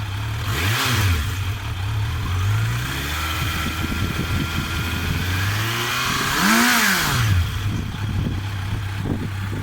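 A 2018 Kawasaki Z900 A2 motorcycle engine runs steadily at idle with an automatic choke tied to the throttle grip, loud and close, and is blipped into two sharp rising revs.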